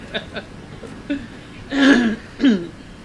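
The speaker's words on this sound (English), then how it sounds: "Now everybody's coughing and getting it all out during the intermission here." Several scattered coughs and throat clearings from a concert audience during an intermission, a few short and faint, then two louder, fuller bursts near the end.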